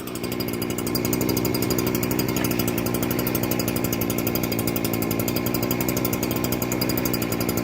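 A small two-stroke leaf blower engine runs loud and close with a steady buzzing drone, holding constant without pause.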